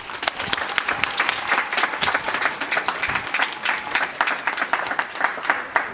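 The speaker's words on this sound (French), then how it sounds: "Est-ce que nous pouvons acclamer le Seigneur?" A school assembly crowd claps steadily and warmly for the Lord at a back-to-school gathering, loud and close with dense, continuous applause and a few faint voices.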